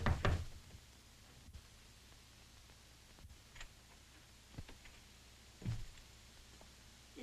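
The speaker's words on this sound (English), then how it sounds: "I thought I heard a knock." Sharp knocks on a door from an early sound film, a loud cluster at the start and then scattered single raps spaced a second or more apart, with a faint hiss between them.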